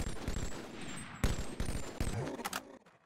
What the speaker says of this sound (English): Oh, how good's that three burst sound?